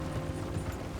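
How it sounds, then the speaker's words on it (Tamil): Horse hooves walking in Red Dead Redemption 2, a brief close clip-clop rhythm over a low steady game background, with no voices. "இங்கேயோ போகுதுங்க குதிரை வேறு."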